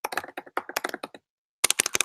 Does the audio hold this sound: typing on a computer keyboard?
yes